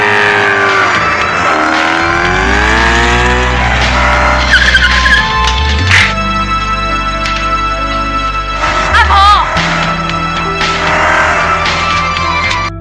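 Motorbike engine revving and tires skidding as the bike is driven into a house in a film scene, loud and close, with pitch swoops and screeches and abrupt bursts and cuts between shots.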